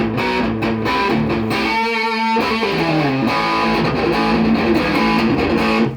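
Heavy, saturated electric guitar chugs and sustained power chords through a Marshall Valvestate 40V 8040 amp on high gain, loud, dense and continuous for several seconds with no voices.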